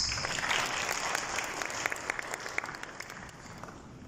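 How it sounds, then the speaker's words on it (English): Audience applause at an opening ceremony, a steady wash of clapping from a crowd sustained throughout without pause, fairly even in loudness and slowly thinning toward the end. "we can give a big round of applause to Armando before his speech"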